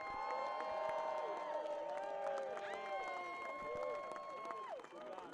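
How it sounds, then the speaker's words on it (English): Crowd at the final day of the 2016 Stance ISA World Adaptive Surfing Championship cheering and whooping for Team USA, with many overlapping voices and shouts sustained loudly throughout. "One more round of applause."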